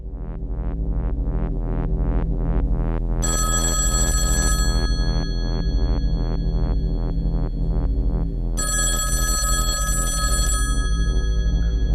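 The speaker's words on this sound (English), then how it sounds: "Well, are you going to answer the phone?" A telephone bell rings in a steady repeating pattern, loud and close, with brighter high-pitched ringing bursts layered over it twice, and no voices.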